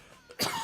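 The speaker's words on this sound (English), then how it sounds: "I still have a cough" A single short, harsh cough bursts out close and fairly loud after a quiet moment, during a casual livestream in Tokyo.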